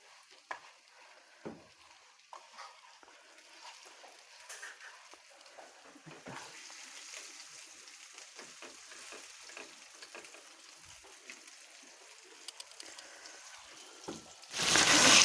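Pomfret fish, coated in semolina, frying in hot oil in a pan, giving a soft, steady sizzle with occasional crackles and pops, louder and brighter in the final moment as the fish is flipped.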